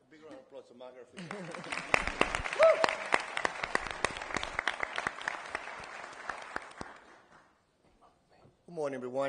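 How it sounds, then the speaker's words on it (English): Audience applause breaks out at a New York City transportation equity summit, a burst of sharp, close claps lasting several seconds before thinning out, with speech briefly before and after. "Big round of applause to Margaret."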